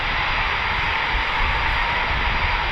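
Two RAF Typhoon FGR4 jets idling at the operational readiness platform give off a loud, steady engine roar with a high whine, unbroken throughout.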